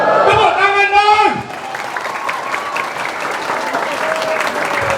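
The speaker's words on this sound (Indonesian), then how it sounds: "Setuju? Tepuk tangan dong." An audience at an Islamic istighotsah gathering breaks into loud, dense applause with some crowd noise, while a voice sustains a tone at the start and talk continues beneath the clapping.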